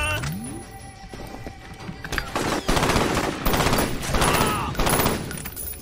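Gunfire in the video game F.E.A.R. Perseus Mandate comes as bursts of automatic fire and scattered shots, loud and dense in the middle and easing near the end, with game sound effects around it.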